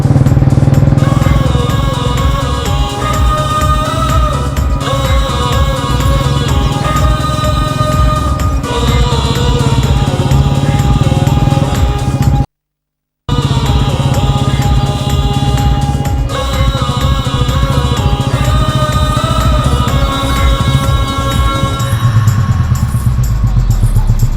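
A motorcycle engine drones loudly and continuously nearby for most of the stretch, a steady rumble that drops out briefly and then returns, fading at the end, with no talking.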